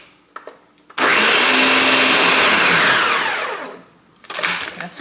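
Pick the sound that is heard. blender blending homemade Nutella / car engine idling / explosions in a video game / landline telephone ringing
blender blending homemade Nutella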